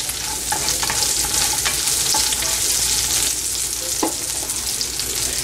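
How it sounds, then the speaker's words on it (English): Chopped small onions frying in a pan for mutton chukka, a constant loud sizzle with occasional scraping stirs and light clicks of the utensil. "I am going to add our chopped small onion, salt it well until they cook slightly brown color"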